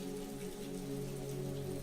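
Steady rain falls on a night at a castle, a soft, even patter that stays constant and gentle throughout with no voices.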